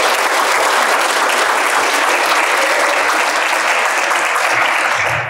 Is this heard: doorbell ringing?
no